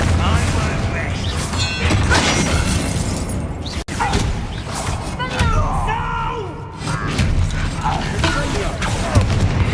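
In the video game Hogwarts Legacy, the Confringo blasting spell is cast in a fight amid a dense mix of booms, crackles and clattering effects, with game voices speaking over the action.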